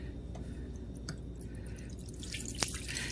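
A Korean crispy fried chicken marinade mix, dissolved in liquid, is poured out in a steady low trickle, with faint dripping and a brief splash near the end.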